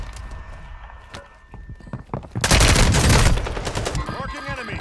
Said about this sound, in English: Did you not see that person who was right next to you shooting at someone?